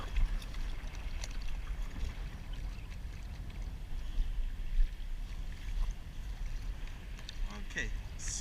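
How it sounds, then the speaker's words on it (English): A large wake wave from the cruise ship Grand Classica washes around a small ocean kayak, a faint low rushing and sloshing of water with wind noise and light splashes throughout. "this wave is from the cruise ship"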